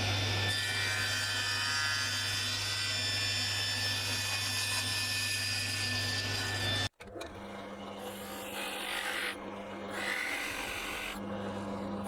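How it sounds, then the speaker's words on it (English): A wooden baseboard is sawn in a workshop: about seven seconds of loud, continuous cutting end abruptly, followed by quieter scraping and rasping. "my next job is to cut the baseboard"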